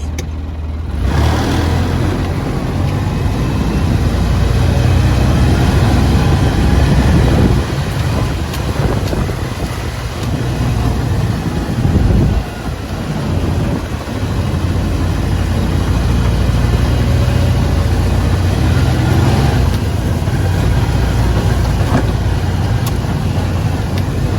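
A Ranger side-by-side driving in high gear on a leaf-covered track, its engine droning steadily and close for the whole stretch, with heavy wind buffeting the microphone and no talking.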